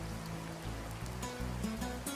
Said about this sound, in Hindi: हे बारिश जी, मेरे घर जाने तक क्या आप रुक नहीं सकती थी?